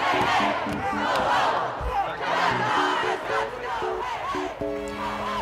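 Protesters gathered at the doors of the Supreme Court shout and chant together, a loud, continuous crowd roar with raised voices rising and falling throughout.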